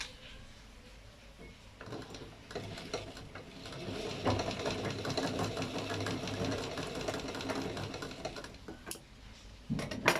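A sewing machine stitching fabric in a home setting, a faint steady rattling run of needle strokes that builds in the middle, with brief knocks and handling noises around it.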